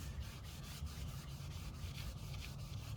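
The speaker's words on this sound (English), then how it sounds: "That just cleans the rocker panel real good." Someone is rubbing down a car's rocker panel while cleaning it in a garage. It makes a faint, steady scrubbing sound with quick repeated strokes.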